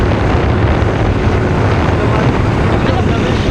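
Strong, steady cold wind buffets the microphone with a constant low roar throughout, like standing exposed on a gusty outdoor spot in Mindanao, Philippines.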